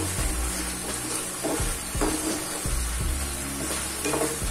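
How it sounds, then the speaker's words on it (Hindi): Sauce frying in a pan for a quick semolina breakfast dish, a constant loud sizzle and bubbling hiss up close, with occasional low scrapes and knocks as it is stirred, no voices. "तो अब हम सॉस को अच्छे से भून लेंगे और इसमें अच्छे से जब बबल आने लगते हैं"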